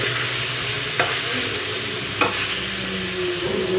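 Chicken pieces sizzling and being stirred in a frying pan, a steady bright frying hiss with a couple of sharp clinks of the utensil against the pan.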